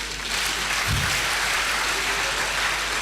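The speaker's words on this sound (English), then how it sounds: "And I think the wife deserves a round of applause." A crowd at a lecture in Nigeria breaks into steady applause for the speaker's wife, a thick continuous patter of many clapping hands at constant loudness.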